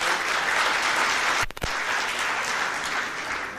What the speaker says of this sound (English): And I'm going to clap.